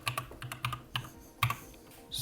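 Keys clatter on a computer keyboard as a word is typed into a website builder. Several close, crisp bursts of keystrokes come in quick clusters with short pauses between them, and no one speaks.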